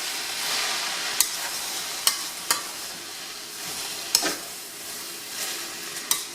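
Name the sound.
stirring Indian style cabbage in a pan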